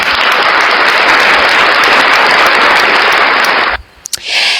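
A congregation at a church-themed religious gathering breaks into loud, dense clapping that holds steady for nearly four seconds, then cuts off abruptly into a near-silent pause before a brief rise of background noise.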